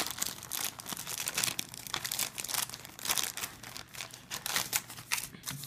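Crinkly plastic packaging of a McDonald's Happy Meal toy, a Teenie Beanie Boos plush from 2014, is torn and crumpled open close up, with a steady run of loud rustling and tearing and no talk.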